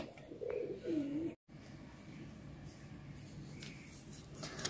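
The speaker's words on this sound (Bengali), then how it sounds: "আইরিনে কবুতর দেখে অনেক খুশি।" Pigeons coo softly in a domestic setting, a low rolling call rising near the start and fading, followed by quieter ambient background.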